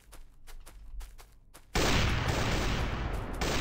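Gunfire erupts in Factorio, a sudden loud, dense burst of rapid shots that keeps going steadily after a few quieter thumps and a moment of near silence.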